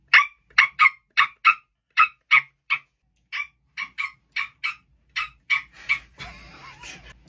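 A human voice imitates a small dog, producing a quick series of about sixteen sharp, yappy barks in uneven bursts, loud and close, followed by a short rustle at the end.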